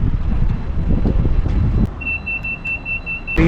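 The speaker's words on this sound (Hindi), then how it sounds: "बहुत तेज़ हवा चल रही है।" Strong wind buffets outdoors in the UK as a steady low roar, loud at first and then easing, with a thin high electronic tone appearing near the end.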